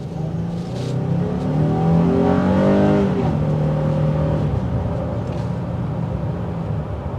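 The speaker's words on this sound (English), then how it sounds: "As it gets up to speed, some road noise" Heard from inside a 2023 Honda Ridgeline HPD pickup with flared fenders, the engine climbs in pitch as it accelerates, then settles into a steady drone with continuous road rumble underneath.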